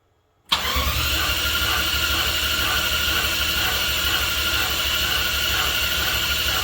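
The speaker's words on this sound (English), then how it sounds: "I'll go ahead and crank the car over." Jaguar XJS car engine cranking and catching, bursting in loud after a moment of silence and then holding a steady, even rumble right up close.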